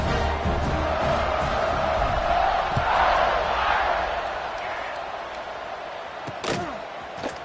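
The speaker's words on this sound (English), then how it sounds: "this crowd is buzzing after that last score" A college football stadium crowd buzzes with broad roaring cheer that swells then slowly fades, punctuated by a few sharp thuds and claps.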